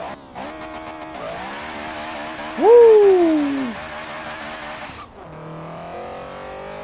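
Racing-game engine note from a K20-swapped Honda Integra in Forza Horizon 3 with VTEC: a loud, rising rev under launch, a brief tire squeal, then a shift and continued high-rpm drone, with a short excited shout midway.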